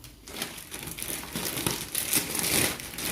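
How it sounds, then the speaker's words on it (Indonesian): Ribbon being handled and crinkled while setting up a monitor lizard enclosure, a close, continuous papery crackling that runs through the whole clip without talk. "Ini pitanya kayak mau bungkus kado nih."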